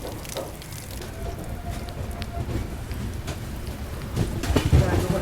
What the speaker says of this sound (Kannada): ಎಷ್ಟು ಜೋರು ಮಳೆ ಆಗೈತೆ ಅನ್ನೋಕೆ ಉದಾಹರಣೆ ಇಲ್ಲೇ ಐತೆ ನೋಡ್ರಿ